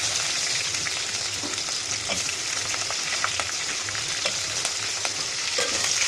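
Curry leaves and dried red chillies frying in hot oil, a steady close sizzle and crackle throughout with small pops, without talk.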